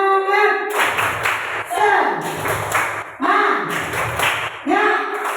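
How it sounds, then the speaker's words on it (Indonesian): Children in a classroom clap a rhythmic spirit clap in repeated bursts of sharp claps, with a teacher's voice calling and chanting between and over the clapping. "tepuk semangat."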